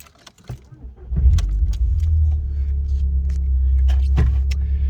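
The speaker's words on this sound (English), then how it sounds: "Let's start her up." A 2002 VW Golf Mk4 GTI with the 1.8 turbo engine cranks and fires after a jingle of keys, then settles into a steady, loud, gruff idle rumble close by.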